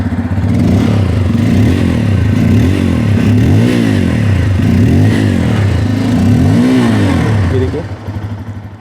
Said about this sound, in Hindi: चलिए अब इसकी जो एग्जॉस्ट साउंड है वो भी मैं आप लोग को सुना देता हूँ